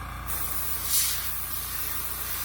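Spray paint hisses from a can onto a resin model kit of a shark, a steady close airy spray lasting the whole moment with a brief louder puff near the middle.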